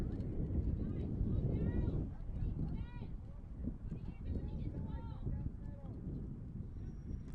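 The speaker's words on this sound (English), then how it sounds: "And you can hear the wind blowing harder." Gusty wind buffets an outdoor girls' JV high school soccer tournament match, a steady low rumble across the microphone throughout, with a commentator talking over it.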